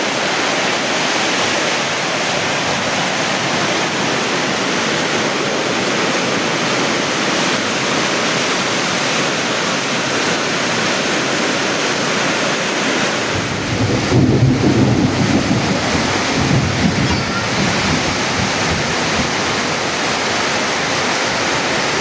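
Heavy evening rain pours down steadily around a rural Thai house, a dense roaring wash of sound, with a low rumble of thunder rolling in partway through; no voices are heard.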